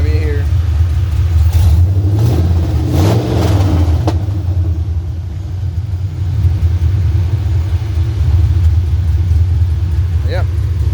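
A 1989-1998 GMC Sierra pickup with a swapped-in 2002 5.3L LS V8 runs loud and close, a heavy continuous rumble that swells into a short rev early on before settling back to a steady drone.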